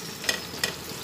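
Salt being stirred into pointed gourd (potol) cooking in a pan: two quick scraping stirs over a soft, steady sizzle, close and fairly quiet.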